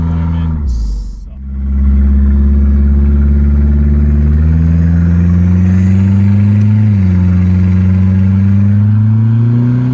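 Turbocharged Dodge Daytona engine cruising in third gear at about 2,000 RPM, a loud steady drone inside the car that dips briefly near the start, then holds an even hum with slight pitch rises.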